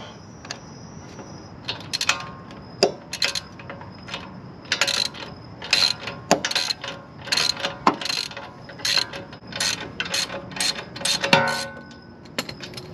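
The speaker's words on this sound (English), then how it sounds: "I got the 2 strut bolts loose right here." Ratchet wrench clicking in bursts while loosening the 18 mm and 19 mm lower strut bolts on an 8th-generation Honda Civic Si during a coilover install, with close, sharp, uneven runs of clicks and pauses between.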